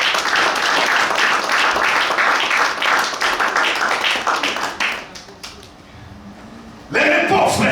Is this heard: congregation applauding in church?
yes